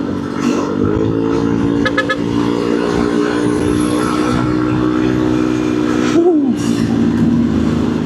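A vehicle overtakes on a two-lane road in the south of West Java, with a steady, loud engine drone close by, a brief horn toot near the end and some talking over it.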